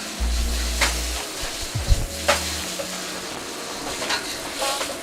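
Tofu for a hot and spicy chow mein sizzles and scrapes in a pan as it is gently dislodged and tossed, with a low rumble at the start and a few sharp clanks and stirs over steady frying, close and moderately loud, no talking.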